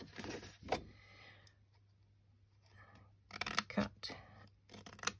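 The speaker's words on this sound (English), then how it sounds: "cut and snip" Scissors snipping through card for a greetings card box, a few sharp distinct cuts at the start and a cluster of quick snips later, close and clear in a quiet room.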